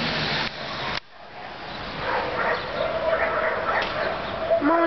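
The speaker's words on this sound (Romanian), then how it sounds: "câte haite de câini sunt pe aici? Doamne sfinte! Dar uite și agitație, uite cum latră" A pack of stray dogs barks and yips between apartment blocks, sharp repeated barks and whimpers at middling distance over steady outdoor background noise.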